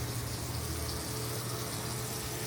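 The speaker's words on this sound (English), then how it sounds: "Hot water coming? We do have hot water." Hot water runs steadily from a tap in an office building, producing a constant broad rushing hiss that stays even and uninterrupted throughout.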